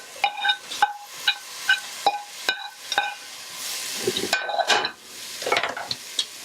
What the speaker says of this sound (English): So what we're going to do now is put in the mushrooms.